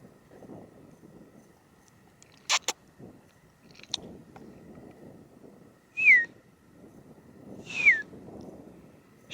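Two short, sliding whistled notes a couple of seconds apart, faint against a quiet mountain background at the Col des Tentes near Gavarnie, with a few soft clicks.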